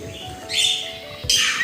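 Mynah birds calling back from a sunny outdoor spot where they range free, bright chirping calls in two bursts against a quiet background, with no talk.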